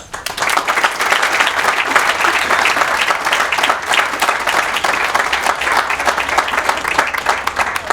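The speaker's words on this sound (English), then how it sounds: "let's have a warm round of applause welcoming Chris Harris" Sustained audience applause at an outdoor World War II Operation Market Garden commemoration in South Deerfield, Massachusetts, as a speaker is welcomed; dense, steady clapping from a large crowd fills the whole stretch without talk.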